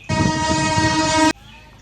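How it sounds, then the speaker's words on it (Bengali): A train horn blares in one loud, steady sustained toot lasting just over a second, then cuts off abruptly, leaving quiet background behind. "ট্রেন দাঁড়া।"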